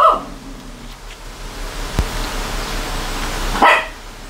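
Dogs at a home bark at a passing garbage truck, with a sharp burst of barking at the start and another near the end, loud and close, plus a single sharp knock in between.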